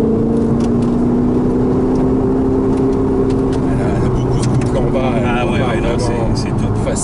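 The turbocharged engine of a sports car on a road driving course drones and pulls hard from inside the cabin, a steady loud roar with shifting pitch and faint voices underneath.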